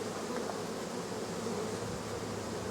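A dense, steady hum of agitated honeybees swarming around an open nuc, continuous and close, with no speech.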